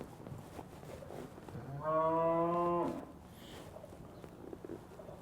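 A cow moos once, loud and sustained for about a second, during cutting horse work in an arena, with quieter ambient noise before and after.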